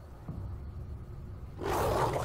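A lion roars inside the video game Wolfenstein: The New Order, bursting in loud and rough near the end after a low, murky stretch of ambient rumble.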